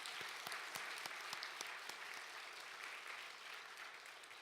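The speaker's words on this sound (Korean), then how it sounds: "박수 한번 쳐주세요. 영광의 박수." A church congregation gives a sustained round of applause for the worship band of drums, guitar and keyboard, a steady, even patter of clapping heard from some distance at low volume, with a few sharper claps standing out.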